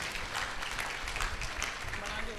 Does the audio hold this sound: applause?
yes